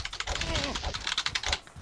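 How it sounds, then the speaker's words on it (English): Fast, loud clatter of computer keyboard keys being hammered in rapid bursts, with a brief voice sound mixed in. "If only you guys could hear my keyboard while I was playing this"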